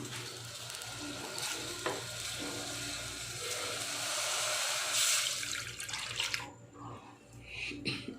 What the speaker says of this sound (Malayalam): ഇതിലേക്ക് പാൽ ഒഴിക്കണം